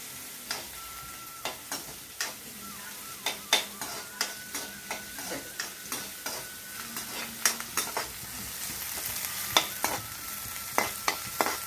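Onions, tomato, carrot and other vegetables fry lightly in oil, with a steady soft sizzle under repeated sharp clacks of a spatula stirring the pan, close and alone with no voices.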